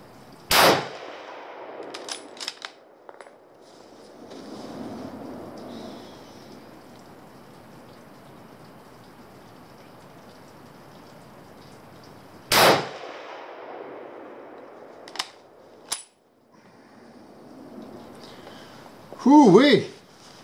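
A handful of sharp, loud gunshots from ammunition testing, spaced far apart, with people talking at a distance between shots.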